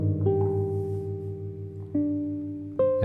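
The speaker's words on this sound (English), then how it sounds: "electric piano sound that's not quite a Rhodes" Sustained electric piano chords with a timbre somewhere between a Rhodes and a Wurlitzer, warm and mellow, changing chord twice in a few seconds, alone without voices.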